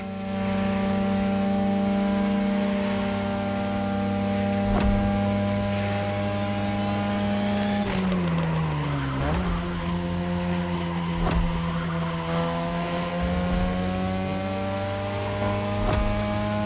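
A 2002 third-generation Mazda RX-7 with a rotary engine races in The Crew Motorfest, its steady high-pitched engine drone holding at speed, dipping sharply once around a shift, then climbing again with rising whine.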